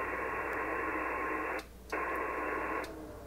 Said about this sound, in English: even with all that static, you can barely see it in the display.